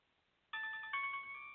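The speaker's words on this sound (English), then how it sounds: "Oh, you hear the phone ringing, don't you?" A telephone rings with a bright electronic tone that starts abruptly, then a second ring follows and lingers, close and clear against near silence.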